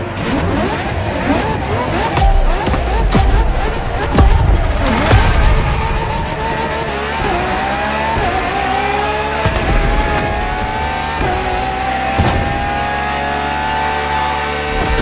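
A Ferrari hybrid supercar from 2013, petrol and electric working together, revs loudly in the racing game The Crew Motorfest, engine pitch climbing and sweeping continuously with tire noise for the whole stretch.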